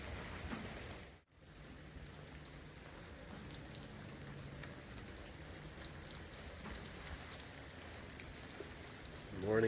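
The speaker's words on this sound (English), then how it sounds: "it's a wet, rainy day here at the Penn shelter" Steady rain falls on the roof and ground around a trail shelter on the Appalachian Trail, a dense continuous patter with a brief dropout early on.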